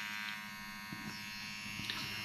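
A Dragonhawk Mast Fold tattoo machine fitted with a 5-round liner runs steadily at 8 volts with a 3.6 mm stroke, giving a continuous close electric buzz with faint ticks and no talking.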